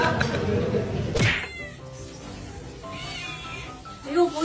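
A pet cat meows several times at close range in a home, with a drawn-out wailing call among the shorter meows. People talk in the background around it.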